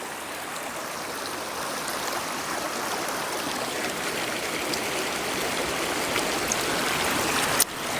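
A woodland brook flows with a steady, close rushing and babbling that continues unbroken throughout, with no voices.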